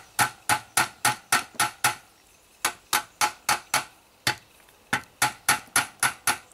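Sharp metallic knocks strike a part of a run-down lawnmower, close up, in quick even bursts of five to seven blows separated by short pauses.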